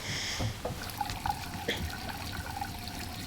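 Hot water runs from a tap or shower in Life is Strange 2, a steady trickling stream heard alone at moderate level with a few small splashes.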